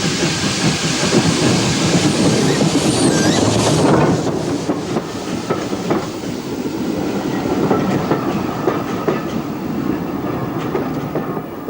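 An ex-LMS steam tank locomotive pulls into a station on the Forth Valley Railway with hissing steam, rolling rail noise and clickety-clack of wheels over joints, loud at first and then settling into a steadier rumble.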